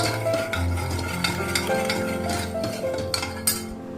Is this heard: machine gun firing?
no